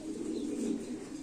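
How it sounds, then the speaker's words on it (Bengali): A pure-bred Beji pigeon pair cooing close by, a steady low throaty murmur running continuously through the short stretch with no talk. "এখানে এক জোড়া একবারে পিওর র বেজি কবুতর আছে"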